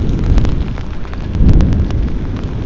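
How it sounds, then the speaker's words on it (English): Thunder rumbling during a heavy rainstorm at a military compound, a deep continuous low roll with swelling bursts over steady rain noise, fairly loud and close. "Thunder and lightning."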